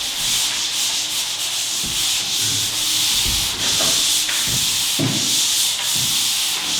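A pole sander working over dried drywall joint compound, a loud continuous abrasive scraping that sweeps back and forth in long strokes with occasional low thumps as the head shifts.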